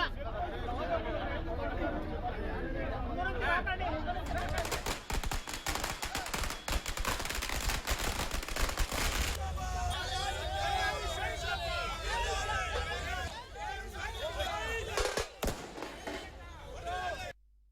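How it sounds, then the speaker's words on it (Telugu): Firecrackers set off during a celebration at the Shamshabad bus stand in Telangana, with dense rapid crackling bursts and pops over a loud crowd babble, easing into lively chatter and scattered bangs. "దీంతో జేఏసీ శంషాబాద్ బస్టాండ్ వద్ద టపాసులు కాల్చి స్వీట్లు తినిపించుకుంటూ సంబరాలు నిర్వహించుకున్నారు."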